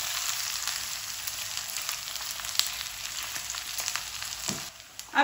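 Bitter gourd fries in plenty of oil, making a steady, loud, close-up hiss and sizzle with small crackles throughout and a brief stir-like clatter near the end.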